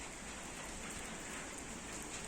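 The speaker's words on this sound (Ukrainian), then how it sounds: "Лавра умита дощем." Rain falls steadily at the Kyiv Pechersk Lavra monastery, a soft, even hiss of drops with nothing else standing out and no voices.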